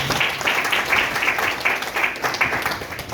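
Loud, dense clapping from an audience at a network-marketing business presentation, continuous with a rhythmic pulse running through it.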